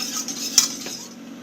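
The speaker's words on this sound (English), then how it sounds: "Put it in there. Whisk it around." A whisk scrapes and clinks around a pan as flour is worked into a sauce base for au gratin potatoes, a quick metallic tap standing out among soft, close stirring strokes.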